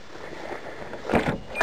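A car engine cranks and catches with a couple of quick mechanical bursts after a low murmur of background noise, close and moderately loud.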